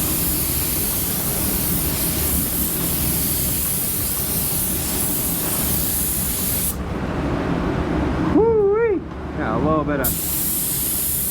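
Spraying through a Porphis PRD-717 split-tip nozzle gives a loud, steady hiss. The hiss stops briefly while someone talks, then starts again.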